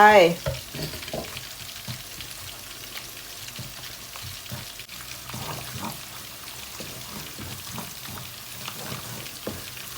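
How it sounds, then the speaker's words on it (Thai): Red curry paste is stir-fried in oil, giving a continuous close sizzle with a steady rhythm of scraping and stirring strokes throughout, and a louder clatter right at the start. "ผัดพริกแกงเผ็ด ให้หอมจ้ะ"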